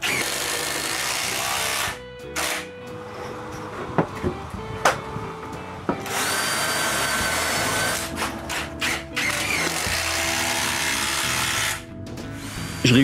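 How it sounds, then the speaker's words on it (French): Power drill boring a hole in wood, several whirring bursts of a few seconds each with short pauses between, close and loud. "Je commence par percer un trou,"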